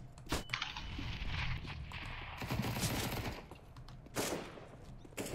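Scattered bursts of Counter-Strike: Global Offensive gunfire crack out amid muffled rumbling, a few sharp single shots standing out against a quieter, busy background.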